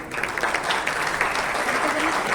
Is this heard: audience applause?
yes